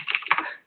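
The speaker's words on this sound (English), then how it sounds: "are you typing?" Brief burst of typing on a computer keyboard, a quick run of close, light key clicks lasting under a second and fading out at the end.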